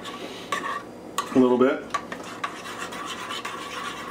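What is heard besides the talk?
stirring stew in a pot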